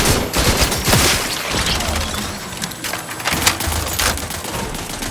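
Gunfire in the video game The Outer Worlds 2 fills a dense combat scene, with sustained loud bursts and rattling mechanical clatter layered over a constant roar, all close and intense.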